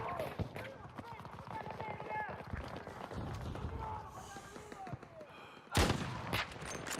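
Gunfire in Battlefield 6 pops and cracks through a busy match, with a sharp loud shot near the end over running footsteps and steady talking throughout.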